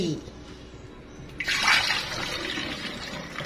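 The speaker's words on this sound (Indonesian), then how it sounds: "Saya akan isi air 600 ml." Water is poured into a container for mixing a lactic acid bacteria serum, a steady splashing fill that starts partway through and continues, near and moderately loud, with speech likely in the background.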